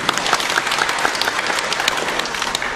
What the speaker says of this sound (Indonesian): Di Paroki Sumber, tepuk tangan dulu.